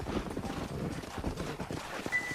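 Horse hooves clip-clop at a steady riding pace in the Red Dead Redemption video game, a dense rhythmic patter of hoofbeats mixed with game music and ambience.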